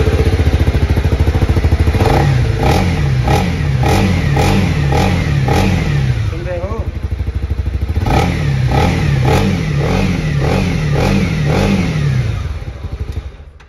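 A Honda CB300R motorcycle idling close by, its engine blipped in repeated short revs: a first run of about six quick throttle bursts, a brief lull, then another series of rising and falling revs, loud and alone.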